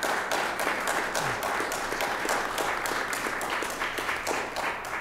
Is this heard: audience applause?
yes